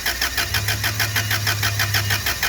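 A Toyota engine cranks with a steady, rapid pulsing chug of the starter and catches briefly into a low hum, loud and close with no talk.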